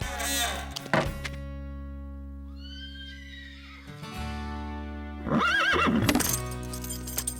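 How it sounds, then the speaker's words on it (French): A cartoon horse whinnies loudly with a long descending neigh, then snorts and whinnies again near the end, with a few hoof clops and a thunk. "C'est vrai que Diablo est un cheval fougueux"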